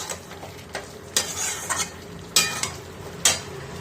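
Chicken koftas stirred and sautéed in a thick masala, with a few sharp spoon scrapes against the pan over a low, steady sizzle, close and fairly quiet, with no talking.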